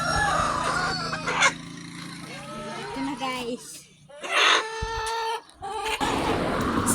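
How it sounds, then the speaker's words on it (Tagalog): A chicken bought at a market clucks and squawks close by in repeated bursts, with a rooster crowing amid the noise while people talk over it and children's voices sound in the background. "Nagbili po kami ng manok"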